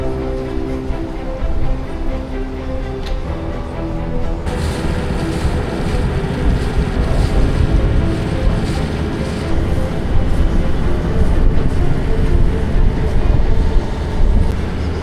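A catamaran motors across the open sea off Funchal, Madeira, giving a steady, loud rumble of engine and rushing water that continues without a break.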